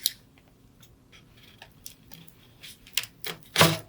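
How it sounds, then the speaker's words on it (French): Scissors cutting an empty cardboard box while making a decorative nutcracker craft: a series of irregular, crisp snips and crunches, sparse at first and then louder and closer together toward the end. "on prend notre carton vide avec notre paire de ciseaux et on va couper"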